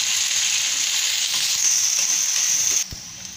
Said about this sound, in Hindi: ये प्याज डाल रहे हैं, और कटे बारीक कटे हुए जो प्याज रखे थे वो हमने डाले